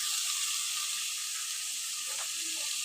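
Spice paste of ground onion, garlic, turmeric, chili, panch phoron and coriander powder frying in a pan for a ridge gourd fish curry, a steady close sizzling hiss with no talk.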